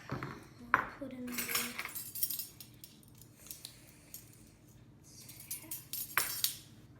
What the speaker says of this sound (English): I'm just using a small whisk.